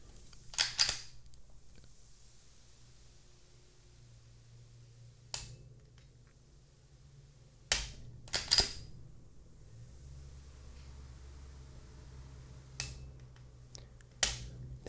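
An FN 509 striker-fired pistol trigger resets with sharp, isolated clicks, a handful of crisp snaps spaced by seconds of near silence over a faint low hum in a quiet room.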